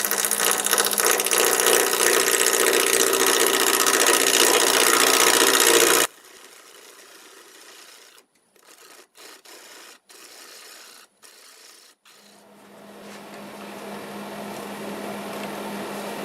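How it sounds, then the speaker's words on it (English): On a wood lathe, a parting tool cuts a tenon on a wooden bowl, giving a loud, steady rasping scrape that suddenly drops to a quieter whir with brief cut-outs, then swells again as the tool bites back in. "Use my parting tool to get the depth of that tenon."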